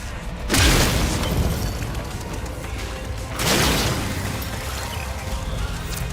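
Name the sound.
explosion in Warframe video game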